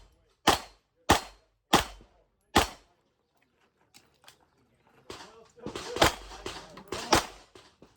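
Four sharp, loud pistol shots from a Ruger RXM at a shooting range, evenly spaced, then a quieter pause with small clicks and the clatter of a magazine change before more rapid shots follow.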